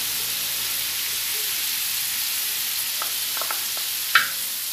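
Dried meat with chopped onion and garlic fries in a pan for feijão tropeiro, a steady close sizzle with a few small pops and a brief clatter near the end, no talking.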